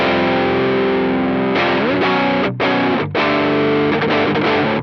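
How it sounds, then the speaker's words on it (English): An electric guitar through a JOYO Clean Glass pedal with its overdrive engaged plays loud, thick, driven chords, sustained notes ringing out and then changing in a few quick strummed shifts, with no voices. "Let's go ahead and turn on the overdrive now."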